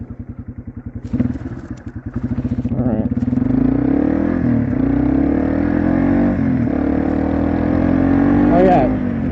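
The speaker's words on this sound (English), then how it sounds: "And then listen to that engine." A Yamaha TW200 motorcycle idles with a close, thumping single-cylinder beat, then revs up and holds a loud, steady drone as it pulls away, and a voice speaks briefly over it.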